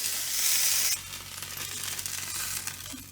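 Food frying in a pan for a Japanese breakfast, a loud hissing sizzle that drops abruptly to a quieter crackle with small scrapes.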